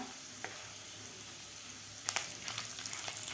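Curry leaves hit hot oil with roasted chana dal for a lemon bhel chivda snack, a low steady sizzle that jumps into sharper crackles and spits partway through, close up with no talking.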